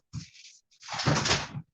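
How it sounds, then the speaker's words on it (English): A back door in a home kitchen is pulled open, giving a short close clunk of the latch followed by a longer scraping swing, with nothing else around it. "I can open the back door."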